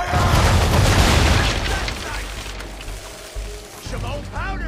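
Ship cannons in the Assassin's Creed III video game fire in a heavy rumbling barrage that fades, followed by further booms and crackling, all loud and dense.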